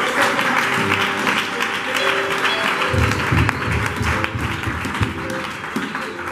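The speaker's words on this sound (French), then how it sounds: "Pour acclamer très bien." A church congregation applauding at a service, a continuous crowd clapping that swells slightly midway, with voices mixed in underneath.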